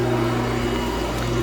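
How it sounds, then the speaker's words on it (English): Steady mechanical drone of an air blower serving a fish farm facility's outdoor growout tanks, a constant hum with strong low tones and broad airy hiss, running unchanged throughout with no talk. "And this is the blower for the main facility."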